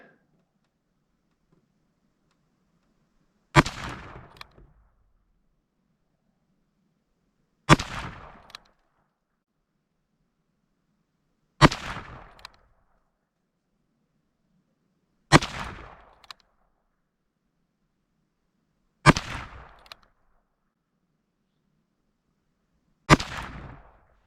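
Six sharp shots from a Ruger Single-Six Convertible .22 revolver fired at a target, evenly spaced about four seconds apart, each a crisp crack with a short decay and near silence between.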